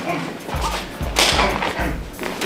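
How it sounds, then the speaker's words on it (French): Low kicks in a Wing Chun class land on a partner's thigh, producing a series of dull, heavy thuds about half a second apart, close and fairly loud. "et je viens frapper en low kick"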